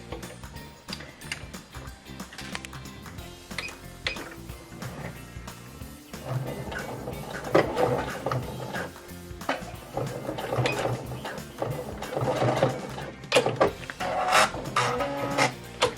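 A sewing machine stitches to tack down elastic on a baby carrier, running in short bursts of rapid mechanical ticking and whirring, close and fairly loud, with pauses between runs.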